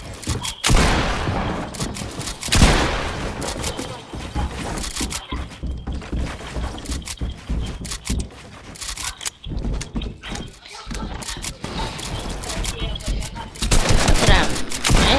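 Fortnite gunfire in a match, bursts of rapid shots and sharp cracks scattered across the stretch, some loud and close, others quicker and more distant, with a player's voice talking in between.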